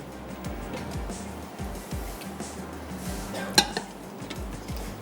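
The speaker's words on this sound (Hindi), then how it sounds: "और एक अदद हम ले लेते हैं कढ़ाई।" In a home kitchen, a metal kadai (wok) is lifted out and set down on the stove while beef is being cooked. A run of light metallic clinks and knocks ends in one sharper clank near the end.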